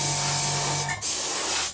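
Gloss acrylic paint hisses from a spray can onto a B-24 model kit in a steady close blast, briefly cut off before a second burst resumes.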